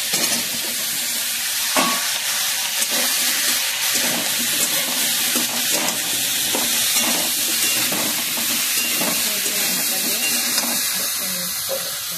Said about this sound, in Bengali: এর মধ্যে দিয়ে দিতে হবে সেই কাটা পটল এবং এটাকেও ভাজতে হবে সুন্দর করে।